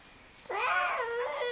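A voice imitates a cat's meow: one drawn-out, wavering cry that rises and falls, close and clear.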